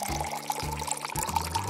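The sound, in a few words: water pouring into a plastic box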